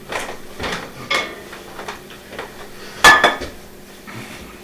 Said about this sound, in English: let's go ahead and bring over our baking pan